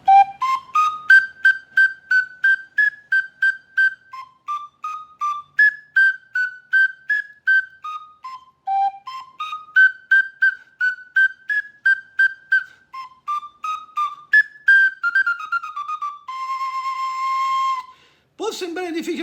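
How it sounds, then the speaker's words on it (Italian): A Sicilian friscaletto, a small cane flute, plays a lively tarantella in short, bouncy, tongued notes with a bright whistling tone, ending on a held note before a brief noise. "Vi faccio sentire la stessa tarantella, lo stesso pezzo, col frescaletto in canna del maestro Altadonna."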